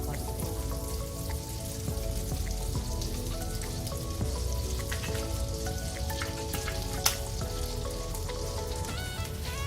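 Butter melting with olive oil in a frying pan gives a steady, close crackling sizzle with fine popping spatters, continuous throughout with no talk.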